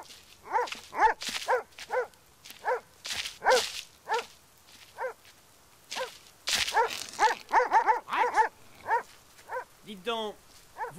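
Big mastiff guard dogs in a scene from the Spirou animated series bark in repeated short bursts throughout, loud and close, mixed with voices talking.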